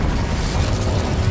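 Incendio fire spell cast in Hogwarts Legacy on PS5, a loud, dense roaring whoosh of flame with a deep rumbling body, sustained and close throughout, no talking.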